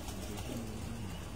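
Pigeons cooing on a rooftop, a soft, low, steady coo close by against a constant hiss of background noise.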